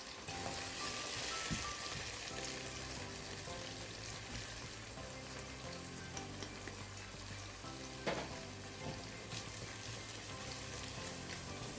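Continuous oily sizzling and crackling of spices and turmeric frying in oil, close up and steady throughout, with occasional soft stirring sounds.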